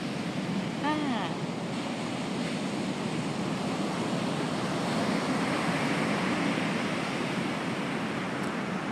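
Ocean surf breaks steadily at First Beach near La Push, Washington, in February, a continuous broad roar of waves with wind noise on the microphone and a few faint chirps early on.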